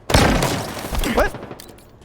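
Sniper rifle fire in Halo Infinite, a loud sharp shot with a booming tail and a quick mechanical follow-up, heard amid game effects and a voice talking.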